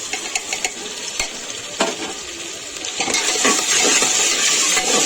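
Onion frying in a pan with ginger-garlic paste added, a steady sizzle with scraping, clinking stirring strokes that grows louder and busier toward the end; no talking.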